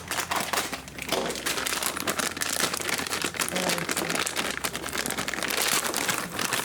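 A plastic bag of LEGO parts is pulled open by hand without scissors, giving loud, continuous crinkling and crackling close up for several seconds.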